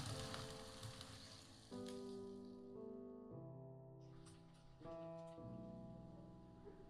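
Onion frying with garlic and ginger in a pan, a faint, steady sizzle running through the whole stretch with no talk over it.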